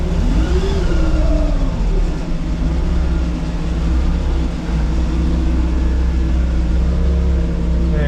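Inboard engine on a wooden motor vessel idling steadily, with a brief throttle blip as it is put into drive, a loud continuous rumble close by throughout.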